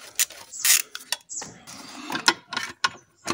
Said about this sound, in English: One by one, remove the 9 12 millimeter nuts from this intake manifold